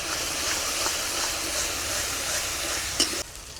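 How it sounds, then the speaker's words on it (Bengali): Spice masala with turmeric powder sizzles and fries in a pan while being stirred for a yogurt fish curry, a steady close hiss with a brief scraping clink near the end and no voices. "অল্প একটু হলুদের গুঁড়ো দিয়ে মশলাটাকে কষিয়ে নেব"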